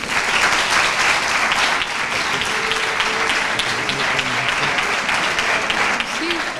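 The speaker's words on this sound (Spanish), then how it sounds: "Un aplauso para Minerva." Applause from an audience at a commemoration event for the International Day for the Elimination of Violence against Women, a loud, steady clatter of many hands with faint voices underneath, continuing throughout.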